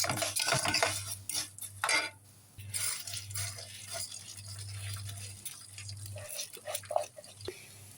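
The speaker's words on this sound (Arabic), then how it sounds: "نقلب فيه لمدة 10 دقايق" Vermicelli and rice stirred in a pot, a spoon scraping and clinking against the metal in repeated strokes with a faint hum underneath and occasional soft drips.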